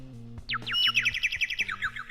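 Loud rapid bird chirps from outside a window in the video game Negligee form a quick run of repeated bright tweets over soft low background tones, with no voices.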